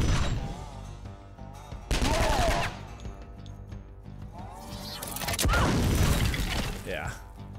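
Gunshots and shattering impacts in the post-apocalyptic game Skyshine's Bedlam come in two loud bursts of rapid fire with crashing debris, mixed with short game effects and a voice talking in between.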